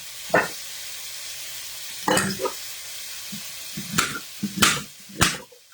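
A constant hiss of meat searing in a pan with carrots fills the background, broken by a few scraping, clattering stirs and bumps against the pan.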